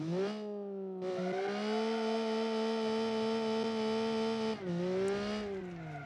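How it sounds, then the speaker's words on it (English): A drift car's engine in the BeamNG driving game, tuned to sound like a Wankel rotary: a steady, buzzy high-revving drone held for several seconds, a brief drop in pitch, then climbing again, loud and alone. "I know why he chose this engine noise, because it almost sounds like a Wankel."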